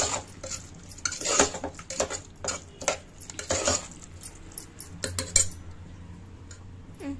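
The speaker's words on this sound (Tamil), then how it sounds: "அதனால பருப்புக்கு தேவையான உப்பு ஃபர்ஸ்ட் இப்படி கலந்துருங்க" A metal spoon stirring salt into cooked lentils in a pot for appalam poo kootu, repeated scraping clinks against the pot in uneven bursts, close and moderately loud.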